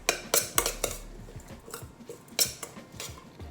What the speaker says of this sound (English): We're mixing this around